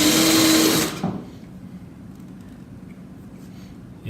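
Power drill boring into aluminum for Fessler interior door handles and arm rests: a loud, steady high-pitched whine for about a second, then cutting off abruptly into quiet room noise.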